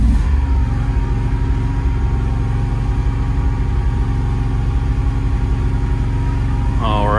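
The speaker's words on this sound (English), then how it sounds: "So I'm going to go ahead and start the generator." A Kohler standby generator in a dropover enclosure starts and runs with no load, a steady close engine drone that holds at an even level throughout, with no talk over it.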